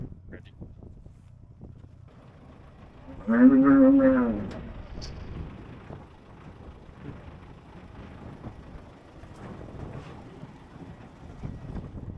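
One loud, drawn-out moo from an angry cow during an outback cattle unloading and roundup, heard close against wind noise and general yard rumble, with faint talking around it.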